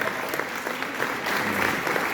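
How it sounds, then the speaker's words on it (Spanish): A church congregation at a Sunday morning service claps together in sustained, loud applause, a thick wash of many hands with a faint musical hum beneath it. "Aplaudan al Rey, por favor"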